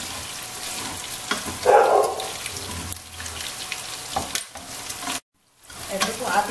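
Pork head and intestines fry in a pan for dinuguan, rendering their fat with a steady broadband sizzle, a brief louder burst near two seconds, and a short dropout before the sizzling resumes.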